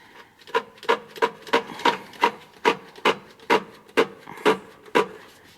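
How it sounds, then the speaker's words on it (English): Rhythmic rubbing squeaks from a drive belt being squeezed and worked by hand on an Arctic Cat Prowler XTZ wet clutch, about a dozen evenly spaced close strokes with no talk. "we'll squeeze the belt one more time, get that loosened up"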